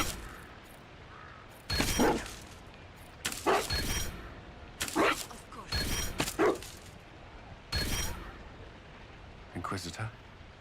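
Dog in Dragon Age Inquisition giving a handful of separate, spaced barks and yips, each loud and short, with soft whimpering between them against a quiet background.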